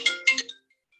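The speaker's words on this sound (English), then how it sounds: "Oh, now it's my phone going." A phone ringtone sounds briefly during a live paper-crafting session, a short bright electronic melody of a few tones that stops after about half a second, leaving silence.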